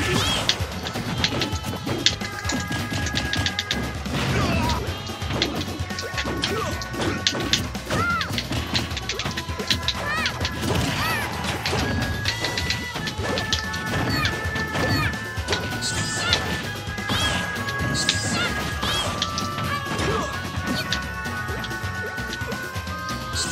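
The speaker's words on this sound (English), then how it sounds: "I'm just forward smashing just because I'm desperate for it." Forward smash attacks in the fighting game Super Smash Bros. 4 land as repeated loud crashing hits and thwacks over dense, continuous game music and effects, with no break in the busy mix.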